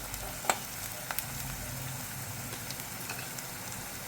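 Onions browning in a pan for a Konkani-style prawn and potato curry make a steady, moderate sizzle, with a few brief spatula clicks near the start.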